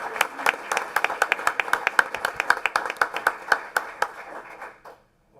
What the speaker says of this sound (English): Can we give JT a round of applause?